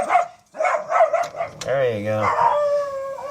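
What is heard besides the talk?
dog barking, chasing off another dog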